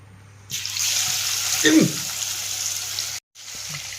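Pieces of fish dropped into hot oil for Kerala-style fish pickle, a sudden close, loud hiss and sizzle that holds steady for a few seconds, with a short gap before it resumes.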